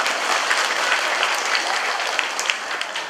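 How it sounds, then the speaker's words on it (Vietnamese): A church congregation at a Lenten hymn service applauds steadily, dense even clapping filling the space for a few seconds without pause. "Quý vị hãy vỗ tay vì anh ấy, mặc dù anh ấy không có mặt ở đây."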